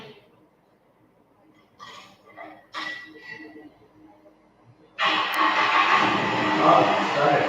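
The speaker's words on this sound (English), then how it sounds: "let's check whether this can start the car." A car engine runs on supercapacitors with no battery. After quiet talk and a few faint clicks, it catches suddenly and settles into a loud, steady running roar close by.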